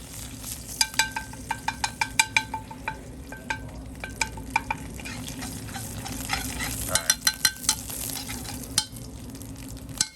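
Anchovies fry in oil in a pan with a constant sizzle, while a utensil stirs them and clicks sharply against the pan in irregular taps, close and alone with no talking.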